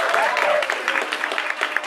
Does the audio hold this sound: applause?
yes